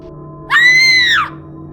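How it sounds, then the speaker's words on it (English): A woman's single sharp scream in an animated horror story, high and sustained for under a second, loud and close over a faint background hum. "She screamed instead."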